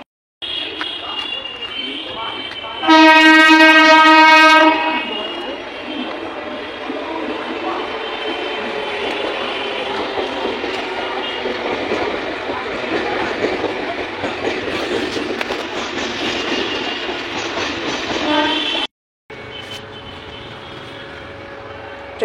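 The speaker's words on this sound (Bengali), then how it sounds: "শিয়ালদহ শান্তিপুর লোকাল 1 নম্বর প্ল্যাটফর্মে আসছে।" A Sealdah–Shantipur local train arrives at a station platform with a steady, loud rumble of wheels and carriages. A loud tonal chime sounds near the start, and the rumble cuts off briefly near the end.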